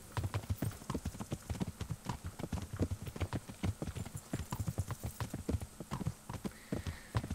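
Horse hooves clip-clop at a steady walking rhythm in the medieval game Kingdom Come: Deliverance, close and distinct, with repeated evenly spaced thuds throughout.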